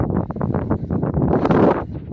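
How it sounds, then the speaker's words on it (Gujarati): Strong wind buffets close to the microphone, a deep gusty rumble that swells and surges throughout. "પવન એવું મસ્ત હાલે."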